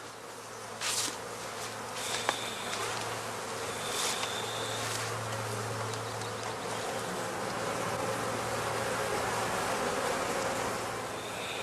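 Honeybees swarm around straw skep hives at a heather apiary in spring, making a dense, steady drone at close range. Individual bees zip past the listener now and then, standing out above the constant hum.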